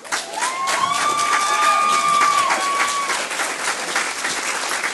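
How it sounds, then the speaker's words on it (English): Steady audience applause from standing delegates at an international youth-in-care summit, with scattered cheers and a brief whistle-like tone early on; loud, dense clapping sustained across the whole stretch. "And can we all give them a round of applause?"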